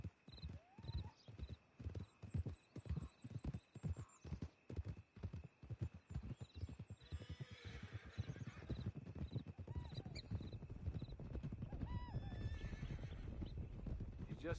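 Horse hooves clip-clop steadily at a walk in a western-style video game, joined by a whinny partway through, with a voice talking over the steps.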